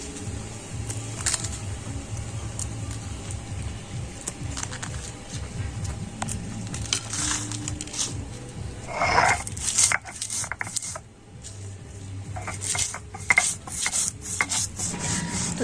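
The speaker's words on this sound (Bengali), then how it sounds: "সেই মশলাটা এখন আমি শিলনোড়াতে গুঁড়ো করে নেবো" Roasted spices being crushed on a shil-nora stone grinding slab for a raw mango pickle, a steady rhythmic rasping and rubbing of stone on stone that runs throughout, close and moderately loud, with a few sharper scrapes midway.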